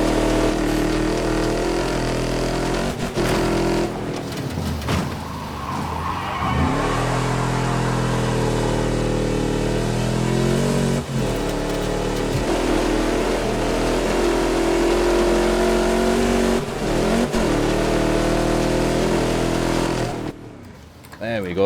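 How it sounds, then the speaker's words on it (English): A deep, rumbling classic American V8 car engine in the video game Wreckfest 2 revs and idles, pitch rising and falling through gear changes, loud and sustained with brief drops in between. "Sounds like a proper classic American V8."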